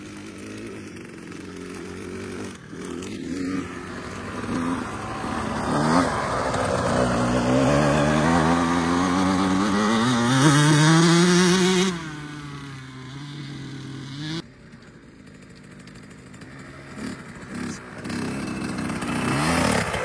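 A KTM motorcycle ridden in winter revs and accelerates, its engine pitch climbing and wavering through rising and falling passes, then dropping away before building again.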